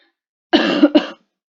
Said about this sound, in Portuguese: essa minha tosse de cachorro brabo, crônica